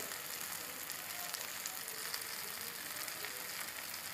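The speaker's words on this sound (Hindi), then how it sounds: "नमक मिलाने के बाद में आप इस मिश्रण में मसाले को अच्छी तरह से भूनेंगे।" Spices sizzle in a hot pan for egg Maggi with vegetables, a steady, even crackling hiss that holds throughout at moderate level, with no voices.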